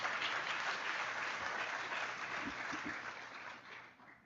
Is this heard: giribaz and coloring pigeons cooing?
no